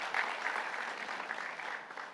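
Sustained applause from an audience at a Diwali celebration held at the Office of the Prime Minister, honouring the Shiv Shakti Dance Company; a steady, dense wash of clapping at moderate distance throughout.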